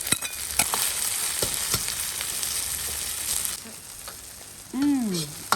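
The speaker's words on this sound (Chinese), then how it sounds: "再加点油，再把豆豉下进去" Fermented black beans fry with garlic and chili in a wok of hot oil, a steady close sizzle with occasional sharp crackles and stirring scrapes, ending with a brief whine.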